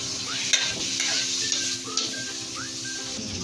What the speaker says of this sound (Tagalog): I added the tofu and gently stirred